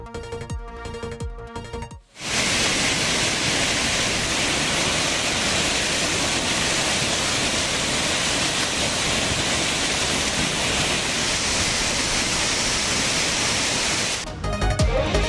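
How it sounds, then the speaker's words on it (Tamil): Jalagamparai waterfall in Yelagiri, swollen after heavy rain, roars as a dense, continuous wash of rushing water, loud and unbroken for most of the stretch between brief musical jingles at either end. "ஏலகிரியில் பெய்த கனமழையால் ஜலகாம்பாறை நீர்வீழ்ச்சியில் தண்ணீர் ஆர்ப்பரித்து கொட்டுகிறது"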